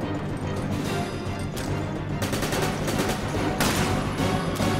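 Bursts of rapid gunfire in the video game Resident Evil 5 crackle in irregular volleys over a dense, noisy mix, with sharp louder bursts near the middle and end.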